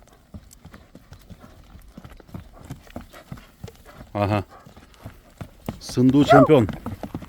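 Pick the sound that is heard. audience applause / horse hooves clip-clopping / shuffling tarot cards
horse hooves clip-clopping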